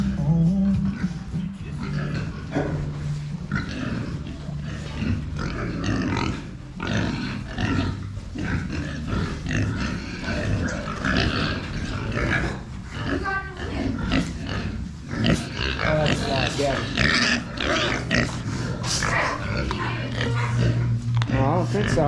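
Pigs grunt and snort inside a barn on a livestock farm, with a steady mass of low grunts and squeals and occasional louder calls over constant barn noise, and people talk intermittently.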